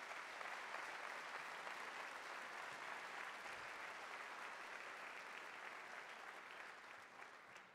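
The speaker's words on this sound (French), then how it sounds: "Et vous pouvez applaudir les maires de l'agglomération." An audience at a mayor's New Year's address in Vichy applauds the agglomeration's mayors, a dense, steady patter of many hands clapping that continues for several seconds and fades slightly at the end.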